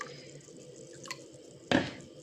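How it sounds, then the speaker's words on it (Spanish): Water is poured from a measuring cup into a pot of drained rice being prepared as red rice, a short splashing gush near the end after quiet kitchen background and a faint earlier trickle. "Voy a colocar el agua hasta donde creció el arroz."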